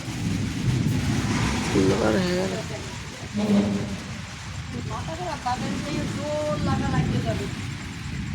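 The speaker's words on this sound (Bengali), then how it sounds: "বিশাল মেঘ ডাকছে বিশাল পরিমাণে" Thunder rumbles through steady heavy rain drumming on a tin-roofed house during a storm, with a voice talking over the downpour throughout.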